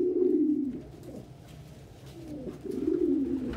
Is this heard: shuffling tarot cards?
no